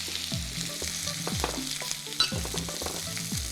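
Sliced onions fry and sizzle in a pan while being stirred, a close, crackling hiss with scraping stir strokes and no talk.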